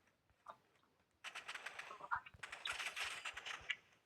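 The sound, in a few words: gunfire in the Roblox game Rivals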